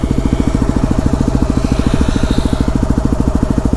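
A Yamaha WR250R motorcycle idling in first gear with a Rekluse clutch, its single-cylinder engine thumping in a loud, steady, rapid pulse right up close.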